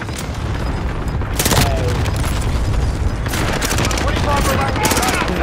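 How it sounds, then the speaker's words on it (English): Weapon-strike explosions and rapid gunfire in Call of Duty: Modern Warfare, loud and close, with booming blasts and bursts of automatic fire overlapping across the whole stretch. "Weapon strike away."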